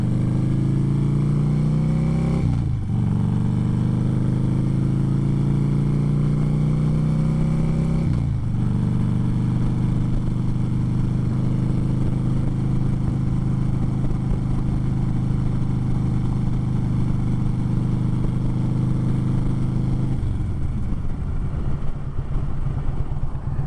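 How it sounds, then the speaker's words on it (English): A Harley-Davidson motorcycle idles with a steady, low exhaust rumble throughout, close and continuous, with two brief throttle dips and a drop in pitch near the end as the engine settles. "you can't really notice the exhaust note when it's just idling like this"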